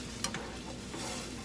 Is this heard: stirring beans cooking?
yes